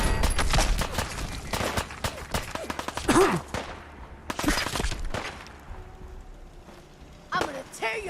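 Bursts of gunfire in a Fallout 4 gunfight, sharp repeated shots in clusters over several seconds mixed with grunts and shouting voices, loud and close with a steady background hum.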